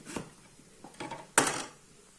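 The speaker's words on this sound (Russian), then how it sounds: "Вот так она режет картошечку и слаживает сюда на низ кастрюлю" Soft clinks and knocks of cut potato pieces dropping into a metal pot, one sharper clatter among quieter taps, against a faint kitchen background.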